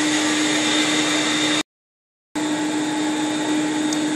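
An upholstery extractor cleans a urine-stained sofa cushion with a loud, steady suction roar that breaks off for under a second and then starts again.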